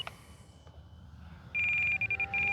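A shrill electronic alarm on a model P-51 airplane beeps loudly in steady pulses after a quiet stretch, cutting in and out briefly before resuming its continuous tone.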